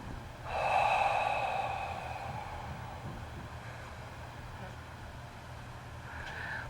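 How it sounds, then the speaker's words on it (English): A deep breath, a long airy inhale swelling up and slowly fading over a few seconds, close and fairly loud, with a quiet hum behind it. "Deep breath."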